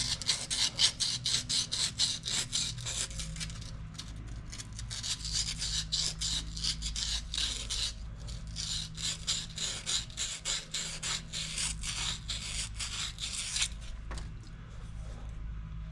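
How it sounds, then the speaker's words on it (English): Steady rasping sandpaper rubs back and forth on a stuck metal fitting from a Dewalt 3800 psi pressure washer hose, a close, continuous scratchy scrubbing over a low background hum, with no talk. "No, that sandpaper just ain't doing it."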